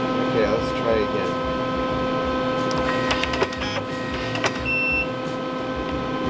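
A workshop machine feeds and hot-cuts webbing, giving a steady mechanical hum with tonal whine and brief clicks and whirs, close and continuous, with people talking at times.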